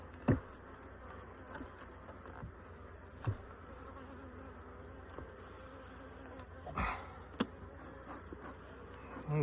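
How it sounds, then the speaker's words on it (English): Bees flying around an opened beehive during an inspection of a split colony, a steady buzzing drone near and far, with a few brief knocks and handling noises and no talk. "So I might have some bees flying around me"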